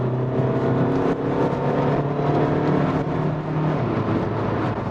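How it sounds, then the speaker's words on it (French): A Volkswagen Scirocco 2.0 TDI diesel coupé engine hums and revs under acceleration, a steady, loud, close drone with rising and falling pitch throughout. "il y a un petit bruit de moteur qui est vraiment sympa."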